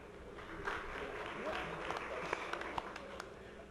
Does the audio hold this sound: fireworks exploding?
no